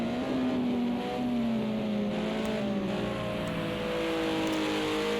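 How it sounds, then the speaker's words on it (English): A BMW race car in a racing video game at Imola climbs a hill under steady power, its engine droning loud and continuous with a rising pitch as it pulls through the gear. "Gear 3 Gaming comes powering up the hill in that BMW"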